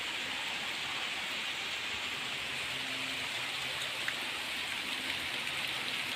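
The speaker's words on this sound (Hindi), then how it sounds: "देखो बारिश कितनी अच्छी हो रही है" Steady rain falls continuously, a dense even hiss of drops on surfaces with no voices, moderately loud throughout.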